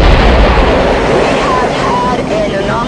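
A strap-on solid motor failing between 1,000 and 2,000 feet up as a rocket climbs on 200,000 pounds of thrust, heard as a loud, sustained roaring rumble with a deep, wind-like broadband texture throughout.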